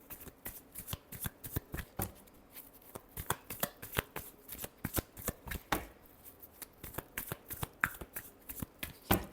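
Tarot cards shuffled by hand up close, a rapid run of crisp papery riffles and slaps in steady repeated bursts, loud against a quiet room with no talk.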